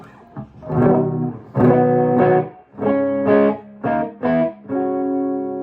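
An electric guitar through a Mesa Boogie Mark IIC+ reissue tube amp on its clean channel plays a sequence of sustained chords and notes, close and fairly loud, with a slightly boxy, honky tone and short gaps between phrases.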